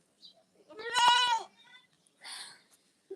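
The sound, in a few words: goat bleating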